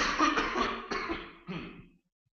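A few rough, close coughs from a man with a viral illness in quick succession, harsh and raspy, trailing off into silence, during a presentation.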